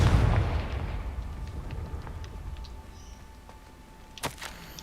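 Confringo blasting spell in the video game Hogwarts Legacy: a deep, rumbling explosive boom opens loudly and decays into a fading low rumble, followed by a short sharp crackle near the end.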